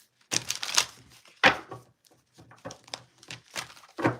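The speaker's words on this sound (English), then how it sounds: "That was like my least effective shuffle ever." Tarot cards from a cat-themed deck being shuffled by hand, heard as a run of crisp, close riffling and slapping bursts separated by short pauses, with no talking.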